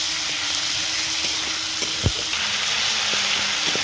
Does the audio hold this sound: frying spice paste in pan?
yes